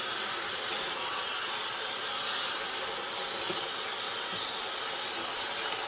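Running water rinses leftover dye out of hand-painted wool and bamboo viscose blend yarn, a loud steady close hiss of spray that continues without a break and without talk.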